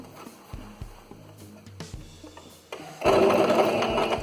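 A sewing machine stitching a fabric face mask, a rapid rhythmic needle thump starting and stopping in short bursts, then running fast and continuously with a louder whirring motor, close up.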